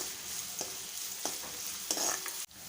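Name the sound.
onion frying in oil in a pan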